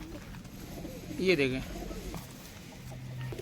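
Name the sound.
pigeons cooing in a pigeon house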